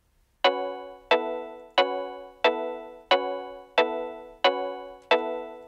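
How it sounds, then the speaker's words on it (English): Eight evenly spaced, plucked electric guitar chord stabs ring out alone, each bright attack decaying before the next, in a steady offbeat reggae-style rhythm. "kind of like a reggae guitar, like electric guitar."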